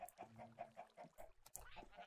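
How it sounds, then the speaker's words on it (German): A chicken in the Minecraft video game clucks in a steady series of short, evenly spaced calls, clear and fairly close, with no talking over it. "Da legt sogar ein Huhn Ei"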